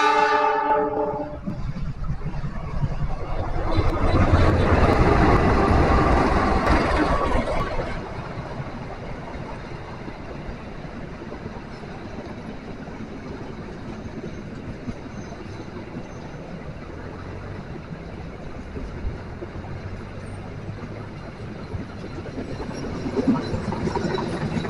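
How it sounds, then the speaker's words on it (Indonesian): The Fajar Utama Solo passenger train, hauled by a CC206 diesel locomotive, pulls into Solo Balapan station. A loud horn blast opens over heavy rolling rumble, which eases into a quieter, steady clatter of cars. "kereta api Fajar Utama Solo masuk ke stasiun Solo Balapan, pemberhentian terakhir rute dari kereta api Fajar Utama Solo"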